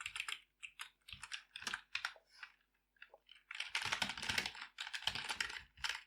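Fast bursts of keystrokes on a computer keyboard while code is entered, with irregular clusters and brief pauses, close and clear, no voices.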